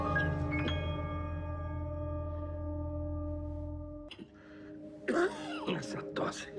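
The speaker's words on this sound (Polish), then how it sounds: "Przeklęty kaszel." A few rough, harsh coughs or throat-clearing bursts come near the end, after a long steady humming tone fades out.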